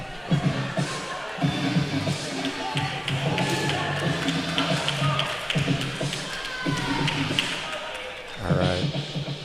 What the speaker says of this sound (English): Lee Whitwell firing up the crowd over there.